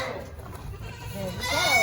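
Two-month-old Boer goat kids being bottle fed give short bleats close by, the cries rising toward the end of a brief moment on a farm.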